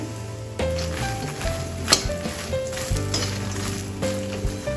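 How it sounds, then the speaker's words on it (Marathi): Makhana, or fox nuts, roast in ghee in a pan, giving a soft sizzle under knocking and scraping as the nuts are stirred and tossed, with one sharp clack midway. "यामध्ये मी मखणा परतून घेते"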